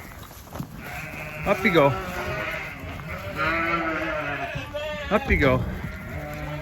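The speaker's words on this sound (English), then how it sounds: "Come on, sheepy sheeps. Up you go." Sheep bleat several times, loud and close, in short wavering calls while a person coaxes them up into a trailer with a grain treat, talking over much of it.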